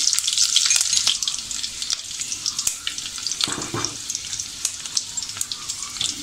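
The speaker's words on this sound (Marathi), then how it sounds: "लसूण छान आपला हा थोडासा लालसर रंगावर परतून घेऊया आपण." Crushed garlic and curry leaves frying in a hot tempering for Malvani-style tomato saar, a bright, crackling sizzle with occasional stirring clinks, close and steady without speech.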